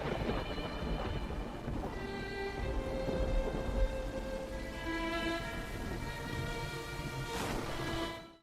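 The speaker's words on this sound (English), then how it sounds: "a woman plays the violin as rain pours and waves crash" Steady pouring rain fills an AI-generated scene from Sora 2, a dense constant hiss. Sustained violin-like tones run through it and a surge like a crashing wave comes near the end, all fairly quiet.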